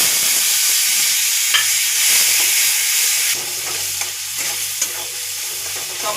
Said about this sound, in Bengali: একটু হিংটাও ভেজে নিলাম